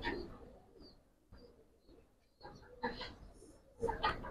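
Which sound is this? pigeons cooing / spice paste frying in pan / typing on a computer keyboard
pigeons cooing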